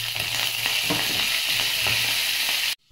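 Onions and curry leaves fry in hot oil for a gongura sorrel pickle tempering, a steady close sizzle with light crackles that cuts off abruptly near the end.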